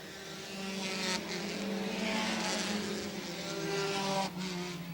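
Stock race cars lapping a short oval track at Airborne Speedway, a loud continuous engine roar from the field rising and falling as cars pass.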